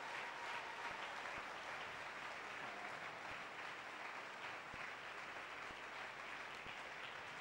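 A church congregation claps steadily and loudly in sustained applause, a dense continuous roar of hands filling the hall with no spoken words over it.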